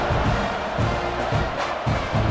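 Stadium crowd in the College Football 26 video game, South Carolina at Texas A&M in the SEC Tournament semifinals: a dense, continuous roar of cheering with rhythmic surges, loud and enveloping.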